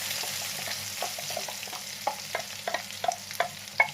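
A spoon stirs and scrapes through thick ground brinjal chutney in a frying pan with a soft sizzle underneath, the strokes growing sharper and more frequent toward the end.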